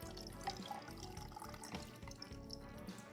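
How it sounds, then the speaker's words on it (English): A cocktail of mango juice is poured into a glass over ice, a soft steady trickle of liquid with faint clinks, quiet and close, with no speech. "Shake to mix, and then pour that into your drinking vessel with ice."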